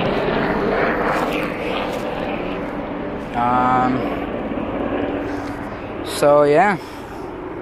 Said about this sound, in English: There's a helicopter somewhere, as you guys may hear.